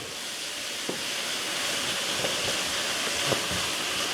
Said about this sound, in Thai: แล้วก็คั่วไปเรื่อยจนกว่ามันจะแห้งมันจะเกรียมเลยครับ